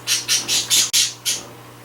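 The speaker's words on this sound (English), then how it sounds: "You hear my birds chirping in the background" Pet birds in a home squawk and chirp in a series of about five or six short, bright bursts at a steady pace, close and fairly loud over a low steady hum.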